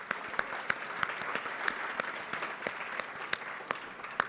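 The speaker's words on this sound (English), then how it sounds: "So let's give the candidates a round of applause." An audience applauds mayoral candidates at a League of Women Voters debate in Orlando, a steady wash of many hands clapping at moderate distance with a few sharper claps standing out.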